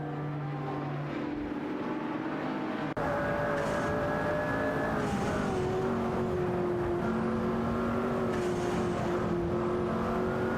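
Race cars from a racing video game, including a Zenvo and a Porsche 911 997 GT2 RS, drone continuously with engine pitch climbing and shifting as they accelerate, several cars layered close together.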